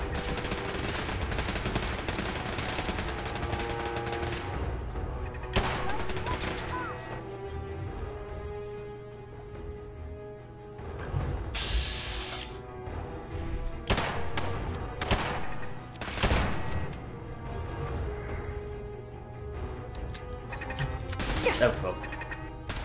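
Automated turrets in Fallout 4 fire repeated rapid bursts of gunfire, loud and close, with brief pauses between volleys over a constant noisy background.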